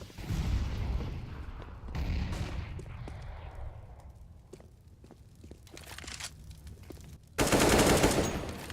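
Gunfire from a Counter-Strike esports match: a loud burst of shots opens, then scattered, fainter sharp cracks and thuds, ending in a loud, sustained volley.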